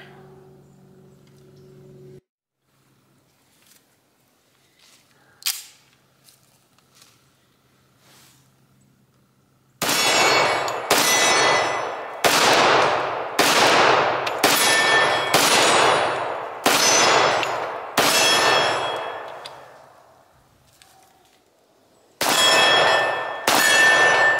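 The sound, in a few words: Kimber 1911 .45 ACP shots pinging steel targets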